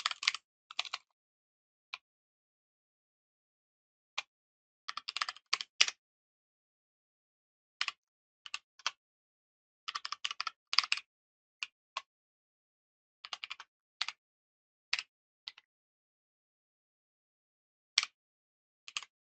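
Typing SystemVerilog code on a computer keyboard: scattered bursts of crisp keystrokes with quiet pauses between, close and dry, no voices.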